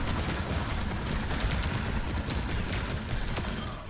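Rapid gunfire from Bastion in Overwatch rattles in a dense, continuous stream of close shots, loud and steady with no pauses, amid busy game noise.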